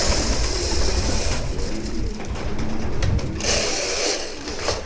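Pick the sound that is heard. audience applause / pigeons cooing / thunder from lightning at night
pigeons cooing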